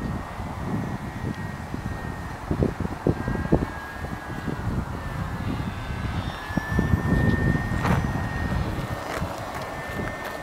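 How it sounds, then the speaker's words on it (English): RC Piper Cub sport park flyer model airplane flying its maiden flight in a strong headwind, a steady high electric motor whine over continuous wind buffeting, fairly close and constant throughout. "here we go with the maiden flight of the Piper Cub"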